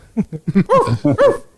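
A person imitates a big dog with a string of deep, gruff woofs, several barks in quick succession, close up.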